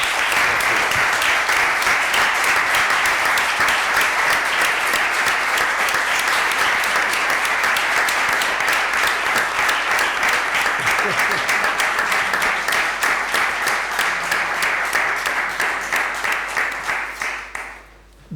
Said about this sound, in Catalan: Doncs un aplaudiment a Dominic per...